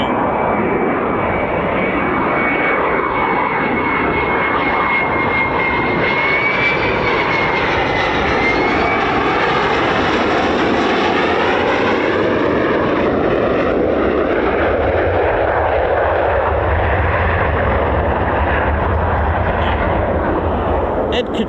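An F-15 or F-35 fighter jet of the 48th Fighter Wing flies at RAF Lakenheath with a loud, sustained roar that swells and shifts in pitch as it passes, continuous for the whole stretch.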